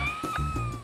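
A small kitten gives one short, clear meow, close and fairly soft, with nothing else heard around it.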